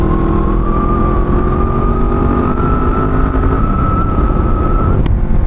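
Kawasaki ER6F motorcycle engine pulling steadily, its droning tone rising slowly in pitch before a shift and a lower note, loud and close with wind noise and no talk.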